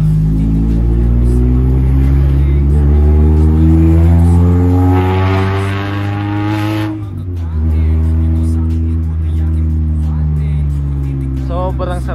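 A Honda Civic EF with its check-engine light on and no VTEC hums along on the road, a steady engine drone that rises in pitch as it accelerates, dips briefly, then climbs again, with a voice talking over it throughout.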